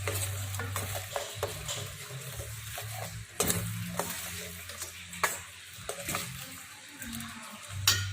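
Chili peppers sizzle and fry in a pan for sweet chili sauce, a steady crackling broken by several sharp clinks and scrapes of a utensil stirring against the metal, all close and without talk.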